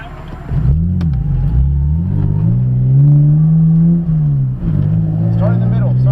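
A Lexus SC300 drifting, its engine revving loudly and steadily with rising and falling pitch as the throttle changes, heard up close from inside the car, with people talking over it.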